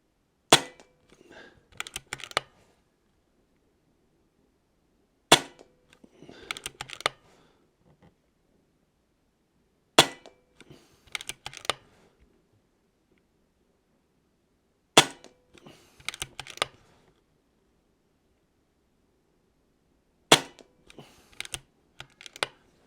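Air Arms S510 TC twin-cylinder air rifle fired at a target, five sharp shots spaced about five seconds apart, each followed by a cluster of quieter mechanical clicks and handling noises.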